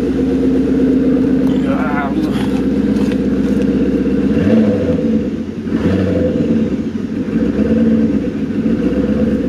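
A Maserati 3200 GT V8 is given a few sharp throttle blips close by, the engine rising and falling before settling into a rough, unsteady idle, with someone talking over it.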